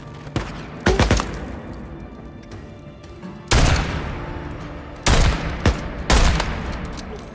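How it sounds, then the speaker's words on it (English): Loud, sharp gunshots from the video game Days Gone ring out in irregular bursts, some single and some in quick pairs, each trailing into a reverberant echo. "firearms in Days Gone sound exceptionally well done."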